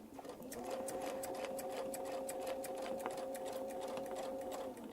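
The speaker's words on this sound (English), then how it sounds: "now we're going to stitch down the line again" A sewing machine runs steadily, stitching a quilt along a template line, with a continuous even whir and rapid needle rhythm holding a near, constant level throughout.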